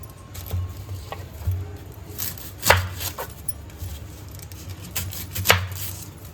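Onions, tomatoes and green chillies being chopped on a board, with a steady series of knife strikes, a few louder sharp chops standing out against a low hum.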